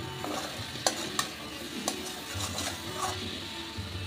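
Vegetables for a chicken stew stir-fried in a pan, with a steady soft sizzle under the repeated scrape and clack of a spatula against the metal, close and moderately quiet, with no voices.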